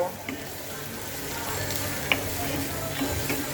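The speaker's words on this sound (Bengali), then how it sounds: "এইবার আমি পেঁয়াজটাকে খুব সুন্দর করে ভেজে নেব" Onions and green chilies fry in a pan for a rohu fish roe do pyaza, producing a steady, moderate sizzle with a light utensil tap or two and faint talking underneath.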